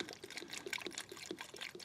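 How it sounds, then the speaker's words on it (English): Engine coolant poured through a funnel into the expansion tank of a Vauxhall Corsa D, a faint, fluttering gurgle and trickle of liquid, alone and close. "We now need to pour the coolant directly into the expansion tank"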